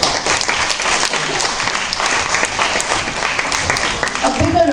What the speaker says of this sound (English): Applause Vasu deserves.